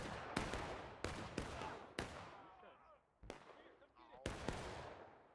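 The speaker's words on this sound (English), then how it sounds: "I might shoot that gun." Musket and rifle shots in the Civil War battle game War of Rights on the Limestone Bridge map, several sharp cracks spaced irregularly with rolling echoes, mixed with distant battle noise and someone talking over them.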